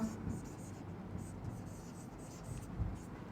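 Quiet, scratchy pen or chalk strokes from writing examples during a biology lesson on classification, with faint intermittent scraping over low room noise and no clear talking.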